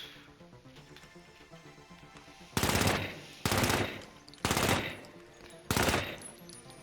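Four separate bursts of automatic gunfire from a weapon in the video game The Finals, each about half a second to a second long with a short gap between, loud over a quiet game-menu hum.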